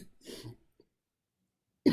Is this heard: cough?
yes